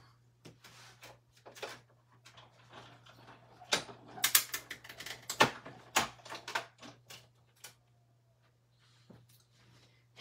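Die cutting machine cutting out cookie shapes, a close run of irregular mechanical clicks, ratcheting and gear clatter that builds in the middle and then thins out to sparse taps over a faint steady hum.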